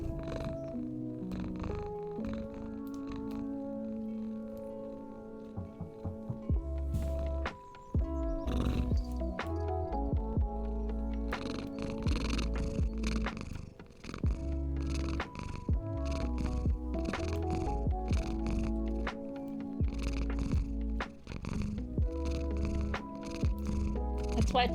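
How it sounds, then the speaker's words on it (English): A domestic cat stretched out on a lap purrs steadily beneath a constant wash of game music, with a person talking over it at times. "He's all stretched out and purring and shit."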